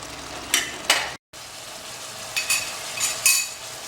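Goat mutton ribs frying in masala, a steady sizzle broken by a few louder bursts of stirring and scraping in the pan, close by, with no one talking.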